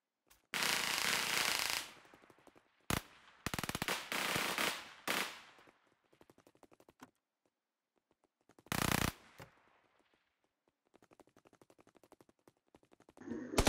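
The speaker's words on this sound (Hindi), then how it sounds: "मुझे एक बंदे की गोलियां चलाने की आवाज़ आती है" Bursts of rapid gunfire crack out in several volleys in the video game PUBG Lite, separated by quieter stretches with scattered faint clicks and single shots.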